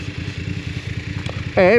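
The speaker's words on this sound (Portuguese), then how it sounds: "E o barulho do escape, olha, deixem ver que a moto está quente." A BMW F 850 GS Adventure 2022 motorcycle idling, its exhaust giving a deep, even pulsing thrum, close by, cut off at the end by a burst of speech.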